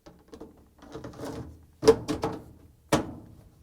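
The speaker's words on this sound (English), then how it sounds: "And now we're going to insert the new filter." Plastic lint filter, part DC61-02613A, being slid into a Samsung dryer, giving a few short, close clicks and knocks with softer handling rustle between them.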